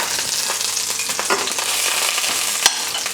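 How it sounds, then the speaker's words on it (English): Steady frying crackle of food in a hot pan, a continuous sizzle with scattered pops and one sharp snap near the end, no voices. "I hear my sausage sizzling."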